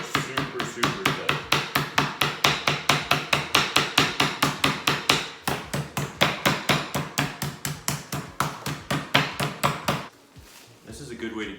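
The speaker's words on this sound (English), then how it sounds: "I'm pounding it to where it's gonna be approximately 1/2 inch to 1/4 of an inch thick" Rapid, regular thumping of a mallet pounding chicken breast flat under cling wrap on a board, about four strikes per second, loud and close, with a short pause midway and the pounding stopping near the end.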